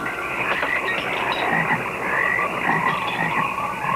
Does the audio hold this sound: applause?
no